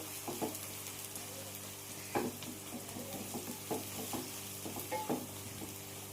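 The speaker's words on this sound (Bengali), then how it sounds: "এবার পেঁয়াজটাকে আমি লাল লাল করে ভেজে নেব" Four long-sliced onions frying in a pan for Mughlai chicken, a steady close sizzle with repeated scraping stirs and clicks of a utensil against the pan, no talking.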